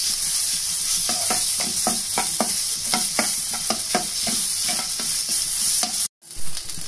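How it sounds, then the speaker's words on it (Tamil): Onion sautéing with ginger garlic paste in oil in a pan, with continuous sizzling and frying hiss broken by repeated rhythmic scrapes of a spatula stirring, and a brief dropout near the end. "இப்ப இதுல இஞ்சி பூண்டு விழுது சேர்த்து வதக்கிக்கலாம்."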